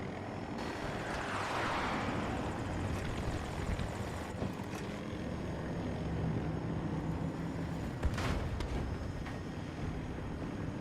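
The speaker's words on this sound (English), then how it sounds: "I think a helicopter's coming in on me." A helicopter in the video game Battlefield 2042 fills the scene with a steady, dense rotor and engine roar that holds throughout, with a few sharp bangs breaking through.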